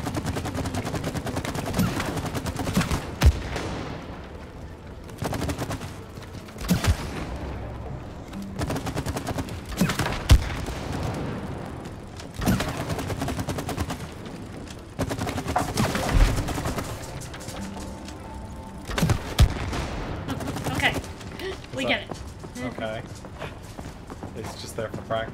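Repeated gunshots crack at a shooting range in the video game It Takes Two, sharp bursts scattered irregularly over steady game ambience, with players talking at times.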